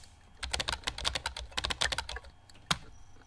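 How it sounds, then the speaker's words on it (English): Fingers tap quickly on a computer keyboard, a close run of crisp, uneven clicks with a brief pause and one final sharp keystroke, no voice over them. "I hope you can't hear my keyboard."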